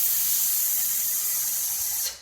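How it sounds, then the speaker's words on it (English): A forceful, steady hiss of breath pushed out during a kettlebell push press workout at home, sustained for about two seconds before cutting off abruptly, close and fairly loud with no talk over it. "When I take this exhale"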